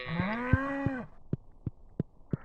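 A cow in the farming game Stardew Valley lets out one long, rising moo. Several sharp, evenly spaced clicks follow, like game footsteps or interface taps, in a quiet, close setting.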